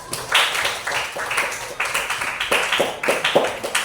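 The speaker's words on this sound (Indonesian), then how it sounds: "Tepuk tangan untuk kelompok 1" Clapping for a presenting group in a classroom setting, a steady patter of several people's hands, moderately loud and continuous with a faint voice underneath.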